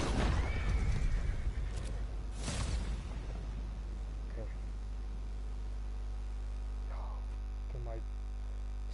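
A horse in Red Dead Online gives a loud whinny near the start, with further neighs and snorts later over a low steady hum and faint game ambience.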